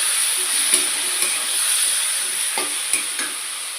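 Chicken masala fries in a pan while being stirred, a loud continuous hiss and sizzle broken by several sharp scraping knocks of the spoon against the pan, with no talk.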